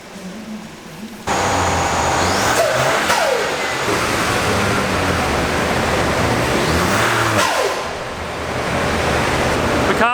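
A Mark 8 Ford Fiesta engine roars loudly and continuously at high revs on a rolling road, rising and falling as it is pushed hard, with a brief dip near the end.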